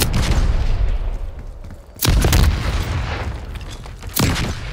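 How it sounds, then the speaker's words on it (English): Flashbang grenades go off in a Call of Duty Black Ops 6 multiplayer match, two sharp loud blasts about two seconds apart, each with a bright crack and rumbling decay, over a low battle din. "Flashbang out."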